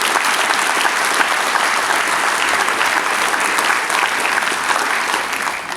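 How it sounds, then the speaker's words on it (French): A packed hall applauds the mayor of Florange's team of deputies and councillors at a New Year address, a dense, loud, sustained wash of clapping from many hands that holds steady throughout. "je peux les applaudir."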